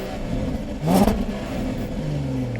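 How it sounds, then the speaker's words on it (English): A 2018 Jaguar XF Sportbrake's 3-liter supercharged V6 fires up with one quick rev that flares and settles into a steady, nearby idle. "The show continues as the 3-liter supercharged V6 comes to life with"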